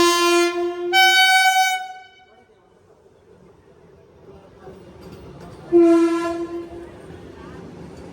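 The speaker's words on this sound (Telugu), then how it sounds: "ట్రైన్ అయితే వస్తుంది" A train pulling into a station, its horn sounding in several loud tonal blasts with a rumbling approach in between, heard nearby.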